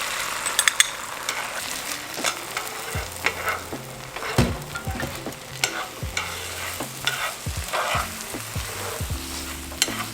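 Eggs and fried tortillas seasoned with adobo sizzle in a pan for migas, a steady close crackle broken by repeated scraping stirs from a utensil.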